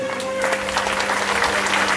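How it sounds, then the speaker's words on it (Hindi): Devotees clapping during a Shrimad Bhagavat Katha gathering in Katni, Madhya Pradesh, a short burst of dense crowd applause heard over a sustained musical drone in the hall. "आप लक्ष्मण जी के लिए ताली बजाइए"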